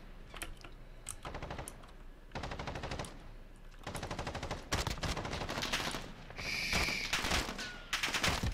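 Rapid automatic gunfire from a Fennec or CR-56 AMAX in Modern Warfare comes in several quick bursts separated by short gaps, with a brief ringing tone near the end, fairly close and without talk.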